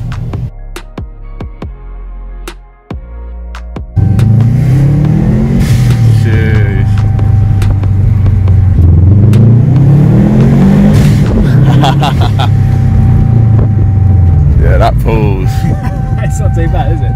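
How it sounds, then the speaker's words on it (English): An Audi A5 with a standard engine revs hard and blows off through its dump valve in repeated loud close bursts, after a few short sharp sounds at the start. People talk around it. "Love that dump valve."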